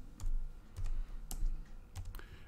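Fingers type on a computer keyboard in a quiet room, a handful of soft, separate clicks and taps spaced irregularly, close and faint, with no voices.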